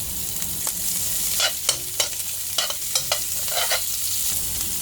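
Onion frying in olive oil in a pan, a steady close sizzle with bursts of stirring and scraping scattered through, no talk.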